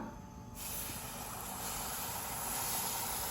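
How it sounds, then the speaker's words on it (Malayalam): Strained jaggery syrup pours into a roasting pan as a steady, close liquid hiss that swells after the first half second and holds broad and even to the end, with no voices. "ഇനി ഇതിലേക്ക് നേരത്തെ ശർക്കര പാനി അരിച്ച് മാറ്റി വെച്ചിരുന്നതിനെ ഒഴിച്ചു കൊടുക്കാം."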